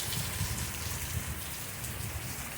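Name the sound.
rain falling outside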